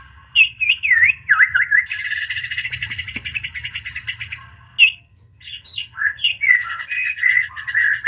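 Truwok bulbul calls played from a USB MP3 module through a TDA2003 amplifier and small speaker: bright, warbling phrases and chirps repeating steadily, close and fairly loud over a low hum.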